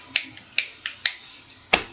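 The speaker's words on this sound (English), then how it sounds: "rubbing your hands, snapping your fingers" Five crisp finger snaps spaced unevenly, each a sharp close click with a short tail, performed as part of a group energizer routine of hand rubbing, snapping, leg slapping and foot stomping.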